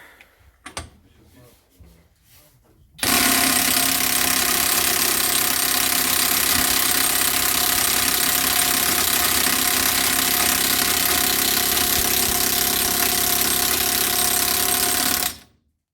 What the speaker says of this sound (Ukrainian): спробуємо гайковертом електричним цей момент відпустити